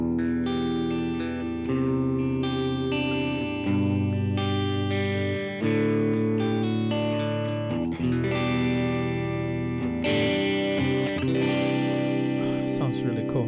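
Indonesian-made G&L Doheny electric guitar in the middle pickup position with the tone knob fully open, played through an amp as bright, chiming clean chords and arpeggios with chorus-like shimmer and sustained ringing notes.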